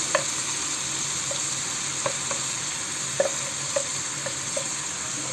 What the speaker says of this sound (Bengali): এবার আমি এই মশলাটাকে একটু কষিয়ে নিই অবশ্যই একটু ভেজে নিতে হবে কারণ পেঁয়াজ আছে